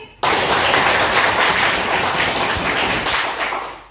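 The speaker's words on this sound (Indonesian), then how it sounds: "Boleh kasih tepuk tangannya lagi." An audience at a school academic-supervision coaching session breaks into another round of applause, starting abruptly and keeping up a full, even roar of many hands for nearly four seconds before easing slightly at the end.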